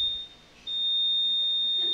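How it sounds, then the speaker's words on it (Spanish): A high electronic alarm beeps in a church service setting: one short tone, a brief pause, then a long sustained beep, loud and clear, with no talk over it. "¿Ese es el alarma o qué?"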